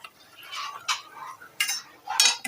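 A spoon stirs sugar into milk in a bowl, giving a few separate scraping clinks and swishes in irregular bursts, close and fairly loud.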